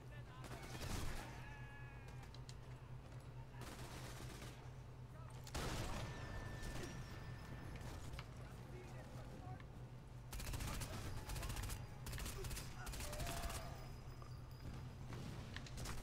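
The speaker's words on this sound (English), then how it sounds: "They are shooting at guys we can shoot at" Soldiers firing guns in Sniper Elite 4, bursts of rattling gunfire and single shots recurring over a steady low rumble, fairly faint with louder volleys around the middle and end.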